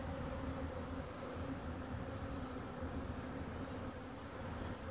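Honey bees buzzing densely around an open beehive, a steady close swarm drone that fills the whole stretch with no pauses and no voices.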